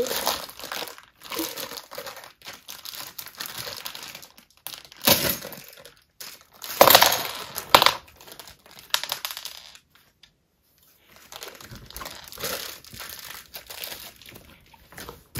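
Crinkly plastic packaging from a Playmobil City Life 71036 classroom set is opened and handled, giving close, irregular bursts of crackling and crumpling with brief quiet gaps between them.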